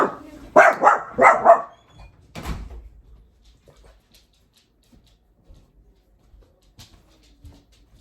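A dog barks indoors at home as kids arrive: a quick run of sharp barks, then a single bark, followed by near silence with faint household sounds.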